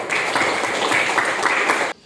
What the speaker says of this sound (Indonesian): Beri tepuk tangan dong untuk Marvel dan Dewi.